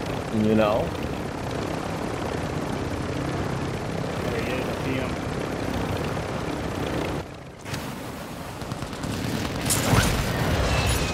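A video game helicopter flies overhead with a loud, steady rotor roar and thudding blades, broken by a brief dip and a sharp burst near the end, under excited voices talking.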